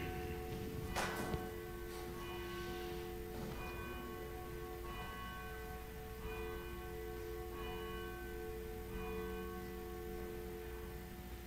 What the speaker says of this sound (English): Let's stand for the ringing of the bell to call us into worship today.